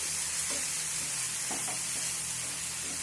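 A spatula stirs a mixture around a hot pan until it dries out, with a constant sizzle broken by a few scraping strokes and no voices.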